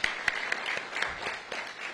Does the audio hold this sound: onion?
no